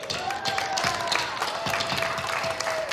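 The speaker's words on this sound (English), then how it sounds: "can we give them a round of applause?" Sustained audience applause fills a room at a community family gathering, steady dense clapping throughout with a faint steady tone underneath.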